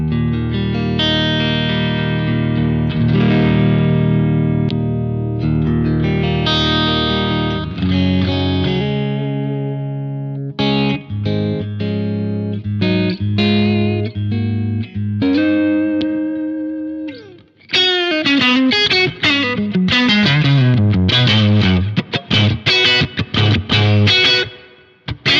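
A clean electric guitar tone through a Marshall JMP amp module, neck pickup, rings out with reverb: sustained chords first, then quicker picked notes and runs, with no talking.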